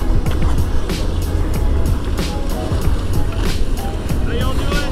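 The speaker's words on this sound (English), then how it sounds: "That's a mighty big boat." A loud, steady rumble of a large boat motor approaching off Capitola, California, mixed with rushing water and wind noise, continuous and close throughout.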